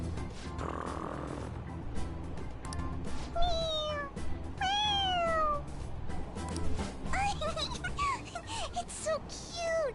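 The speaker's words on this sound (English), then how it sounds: "Yeah, it's just a toy. It meows when you press on its head." A toy cat in the video game Persona 5 Royal meows when its head is pressed, giving several bright, rising mews one after another over a soft background.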